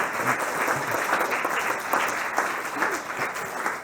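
Audience applause at a youth gathering, a dense, steady wash of many hands clapping at moderate loudness, sustained throughout without pause or talk on top.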